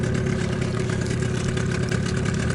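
A boat motor runs steadily at low speed while a hooked taimen is towed slowly toward the riverbank, a continuous mid-to-low engine drone close by with no talk over it.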